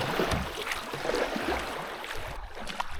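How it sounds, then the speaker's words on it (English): A heavy aluminum canoe is paddled solo across a lake in Sweden's Glaskogen wilderness in September, with a soft continuous wash of water, gentle gurgling and splashes from the paddle strokes, all at low, steady loudness. "I am paddling in a what I would call tourist graded aluminum canoe."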